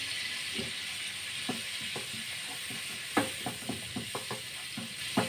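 Red chili powder sizzles in hot butter for a keşkek sauce, a steady hiss with a run of sharp scraping clicks from stirring that grow louder toward the end.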